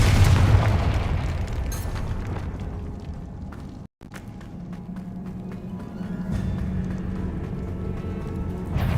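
In the game Hogwarts Legacy, a Confringo fire spell sets off a loud booming explosion that rumbles and fades, with a short cut to silence midway before further rumbling bursts follow.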